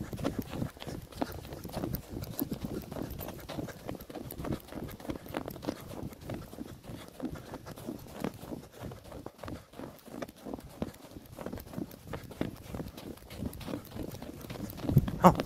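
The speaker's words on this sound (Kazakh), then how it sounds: "Осы жылқы шапқаннан гөрі жорғасы мықты." A young English-breed horse ambles along a ridge trail, its hooves making a soft, steady run of close, rhythmic thuds, with a faint voice now and then.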